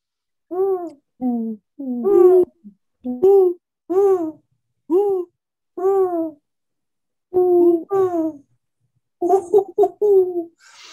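Several people imitate an owl's hoot with their voices, a series of short, tonal hooting calls in irregular bursts, fairly loud and close, with brief pauses between them and no other sound.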